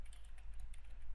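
Quiet keystrokes on a computer keyboard, a few soft evenly spaced clicks over a low background hum.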